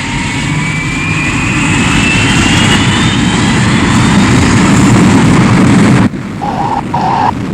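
Jet aircraft coming in to land with full flaps: a loud, continuous engine roar with a rising whine that swells, then cuts off abruptly, leaving a quieter hum with brief tones.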